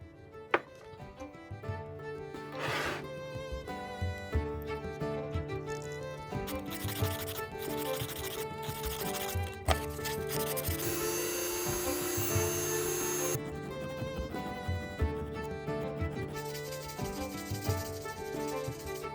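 A ring made from a silver 5-franc coin is sanded and filed, giving rough rubbing and scraping strokes with irregular bursts and short scratchy passes, fairly faint and close up with no talking.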